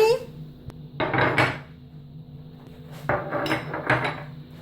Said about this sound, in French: Je prends des ramequins comme ceci.